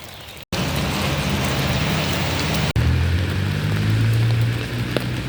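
Steady, heavy rain pours outdoors, a dense close hiss of drops on surfaces with a low rumble underneath, broken only by two sudden brief cuts in the sound.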